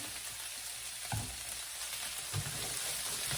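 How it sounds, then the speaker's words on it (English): Brussels sprouts and onions frying in olive oil in a pan: an even, dense, close sizzle throughout, with two low thumps of stirring partway through and no talk. "Add a little olive oil to the pan."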